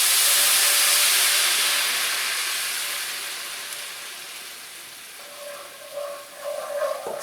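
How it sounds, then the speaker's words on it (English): White wine, a mild Pinot Grigio, hits a hot pan with garlic for prosciutto-wrapped shrimp, giving a loud steamy hiss and sizzle that slowly fades, with a few clinks and stirring sounds near the end. "It's going to deglaze the pan, and it's going to reduce rather quickly."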